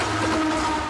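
A train rumbles in a film scene set among trains in near-abandoned factories, from the 1979 film La Guerre des polices. The low rolling rail noise is dense and steady through a very short moment, with no voices.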